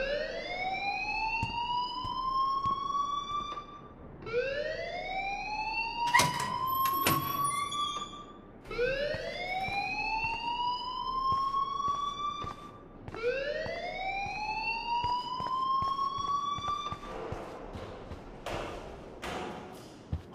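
A fire alarm in the video game Life Is Strange wails in repeated rising sweeps, each lasting a few seconds, loud and continuous with brief gaps between cycles.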